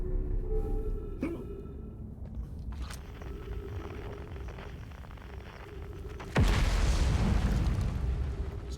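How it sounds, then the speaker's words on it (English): Video game explosions boom during a stream. Low, muffled rumbling and scattered distant bursts build to one loud, broad blast near the end that rolls on as a sustained roar, with no talk. "Stuff exploding all over the place."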